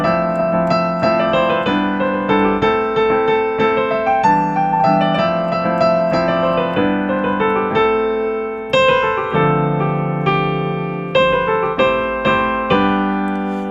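Excerpt of an original song: a steady, loud instrumental passage of rich chordal keyboard harmonies with bright melodic notes, playing continuously with no talking.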